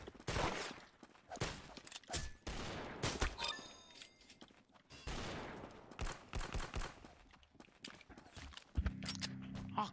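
Rapid gunfire bursts from weapons in the video game Arsenal, loud and dense, with repeated shots and impacts filling most of the stretch and a brief pause midway.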